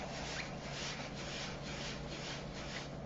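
A buffing wheel spins with sandpaper against a workpiece, a continuous rough rasping scrub with a faint rhythmic pulse, steady and fairly quiet, with no voices.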